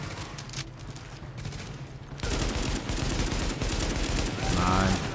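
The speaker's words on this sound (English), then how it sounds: "The escort party's taking heavy fire from the roof." Heavy gunfire pouring down from a rooftop in the video game The Division, as a dense, continuous barrage of shots that swells louder midway, with voices and other game sounds mixed in.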